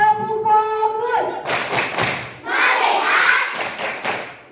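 Children in an elementary school seminar perform a rhythmic focus-clap, with quick, loud claps mixed in with their voices chanting along in a group.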